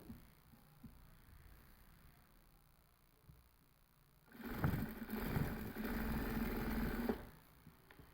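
Sewing machine stitching golden piping onto a lined suit, heard in one steady run of about three seconds that starts and stops cleanly against a quiet room hum.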